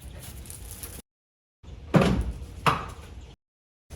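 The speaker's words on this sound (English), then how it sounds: "Parking brake released, much better." Parking brake on a Chevrolet Colorado/Canyon being released, a couple of sharp mechanical clunks about a second apart, fairly close, with silent gaps before and after.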